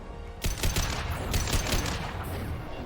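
Rapid gunfire in a video game battle, a sudden loud volley starting after a short lull and continuing as dense overlapping shots for a couple of seconds, with no voices over it.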